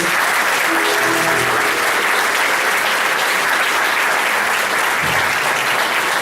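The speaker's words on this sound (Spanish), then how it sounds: "un fuerte aplauso para ellos" A church congregation at a double anniversary service in Ponce claps loudly for the young people, a dense, steady wash of applause filling the room without a break.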